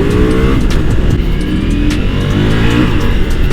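Ducati Multistrada V4S motorcycle pulling hard under acceleration, a loud, close, continuous engine roar with rising revs and wind rush throughout, no talking.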